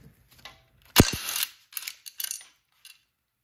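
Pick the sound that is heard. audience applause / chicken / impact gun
impact gun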